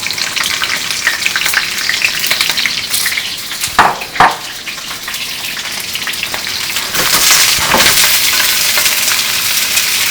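Fish frying in hot annatto oil sizzles loudly and continuously, a dense crackle with a couple of brief knocks midway and the hiss swelling louder toward the end.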